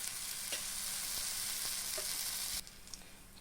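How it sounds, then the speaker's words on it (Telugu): A ragi flatbread made with nalleru sizzles on a hot griddle with a little oil. The crackle is steady and close, and it drops to a softer fizz for the last second. "ఈ విధంగా వెడల్పుగా రొట్టెని చేసుకొని కాలుతున్న పెనం పైన ఆ విధంగా వేసుకోవాలి"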